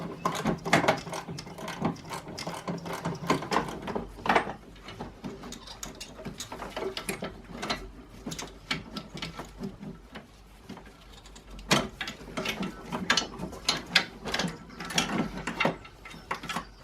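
Ratchet clicking as 13 mm bolts are cracked off on a Vauxhall Corsa 1.3 CDTi during a service, with bursts of rapid pawl ticks, close and clear, alongside clanks of tools and metal handling.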